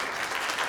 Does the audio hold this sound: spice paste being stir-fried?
no